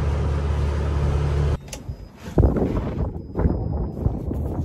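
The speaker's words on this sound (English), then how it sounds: "It's a little bit windy" Steady tractor engine drone gives way to gusty wind buffeting the microphone outdoors in farm fields, rumbling and uneven, fairly loud, with no one speaking.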